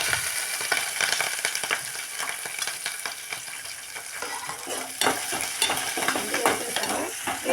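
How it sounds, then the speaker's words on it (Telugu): Onions and chillies fry in a pan with peanuts, chana dal, cumin and mustard seeds for upma, a loud continuous sizzle broken by repeated scraping stirs, close up and with no talk. "ఇప్పుడైతే ఆనియన్స్ చిల్లీ వేస్తున్నా ఉప్మాకి."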